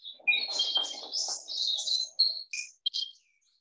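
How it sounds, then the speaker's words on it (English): A spotted pardalote calls in a garden: a run of bright, high chirps and short notes over a faint low murmur, ending in a few separate calls before falling quiet. "Now the pardalote's calling. That's the spotted pardalote."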